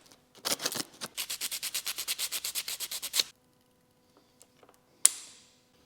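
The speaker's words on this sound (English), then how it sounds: "I have 40 grit right here. I'm gonna get it all scuffed up." Coarse 40-grit sandpaper scuffs a plastic part on an abandoned Evo 8 rebuild to prep it for epoxy: about twenty quick, even rasping strokes in a steady rhythm, then quiet and one sharp click.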